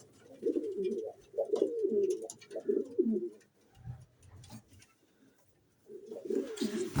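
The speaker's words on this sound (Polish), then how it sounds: "Tu właśnie idą teraz samczyki, bo to jest nowy gołębnik." Several male pigeons coo nearby in a new loft in low, throaty bursts with short pauses between, and a faint rustle in the background.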